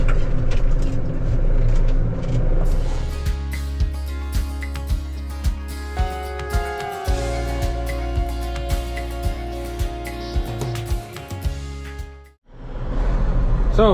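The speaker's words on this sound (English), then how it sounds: "you can probably hear it there through the window. The exhaust that is on that tractor." A 3655 tractor's exhaust drones through a window at a silage pit, a low steady engine note with regular pulsing beats that swells, then drops out sharply before resuming.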